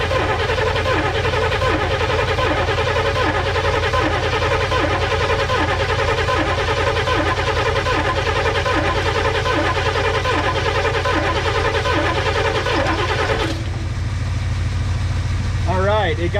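A 1985 GMC square-body pickup's 454 V8 engine cranks with a steady, loud churning rhythm, trying to start without catching, and the cranking cuts off near the end.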